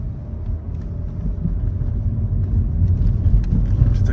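An Audi A4 Avant 2.5 TDI V6 quattro diesel accelerates, a low rumbling engine note building gradually in loudness over a few seconds, heard from inside or close to the car.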